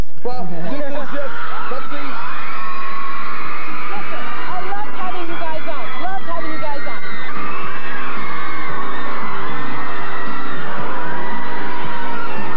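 Studio audience at a daytime talk show with New Kids on the Block as guests, a dense crowd roaring with shrieks, whoops and yells throughout, loud and sustained.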